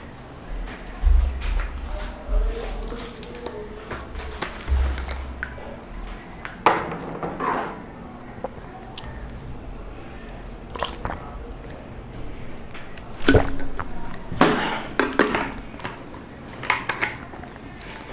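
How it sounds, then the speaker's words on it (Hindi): Water is poured and sipped, soft wet squishes and drips scattered through a quiet room with a few louder gulps and clinks, and no talk over it. "अब मैं पानी पी लेता हूँ थोड़ा।"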